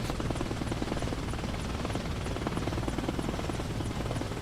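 A Soviet military helicopter in a combat video game hovers nearby as it drops off a person, a truck and a barrel, its rotor giving a steady, loud, continuous thrum with rhythmic blade chop throughout.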